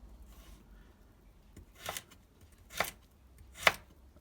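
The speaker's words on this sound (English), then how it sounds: "tip down first, pushing through the vegetable, letting the knife do the work" Three distinct knife chops on a cutting board, spaced about a second apart, as vegetables are cut for chicken noodle soup; close, crisp and isolated against a quiet background.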